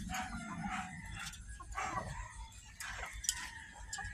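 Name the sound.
Asil chickens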